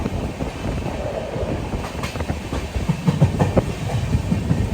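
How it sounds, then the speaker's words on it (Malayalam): An LHB passenger train of Konkan Railway pulls into Verna station, with rhythmic clickety-clack of wheels over rail joints, rumbling carriage noise and a faint hiss, steady and close as the coaches roll along. "ട്രെയിൻ ഇപ്പോൾ വെർണ എന്ന് പറഞ്ഞിട്ടുള്ളൊരു റെയിൽവേ സ്റ്റേഷനിൽ എത്തിയിരിക്കുകയാണ്"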